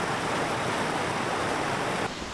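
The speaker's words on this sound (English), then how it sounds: "There were like little small waterfalls and all this moss just trickling down." Small waterfalls trickle down moss along a scenic hiking trail on a Denver-to-Zion road trip, a steady, close, broadband rush of running water that drops slightly in level near the end, with no talking.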